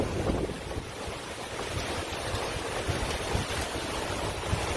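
Wind blows steadily outdoors on a deck ahead of a storm, a loud, continuous rushing roar buffeting the microphone with no voices over it.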